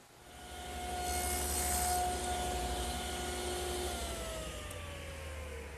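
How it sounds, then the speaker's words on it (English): Router or power tool cutting a 1/4 inch mortise in wooden cupboard stiles, a steady motor whine with grinding cut noise building and holding throughout, close and moderately loud. "So now I'm machining a mortise in the stiles."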